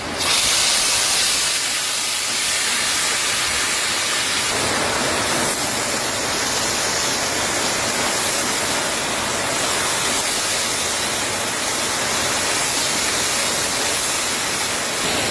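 A bay leaf and cumin seeds sizzle in a hot pan, giving a steady, loud, broadband hiss that holds evenly throughout with no talking over it.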